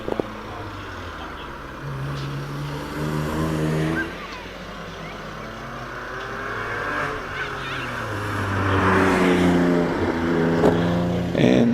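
A Caterham sports car pulls away from the start line at a hillclimb, its engine note rising through the gears and fading into the distance, heard outdoors over a busy crowd-like background.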